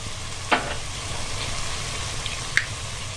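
Onions frying in a pan for a pasta tagine, being stirred, with a constant soft sizzle and two sharp utensil clinks against the pan.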